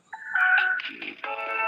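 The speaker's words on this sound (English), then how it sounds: "Got a phone call." A mobile phone's ringtone sounds outdoors at a catfishing spot, a short bright electronic melody that shifts pitch partway through, close and fairly loud, with no talking over it.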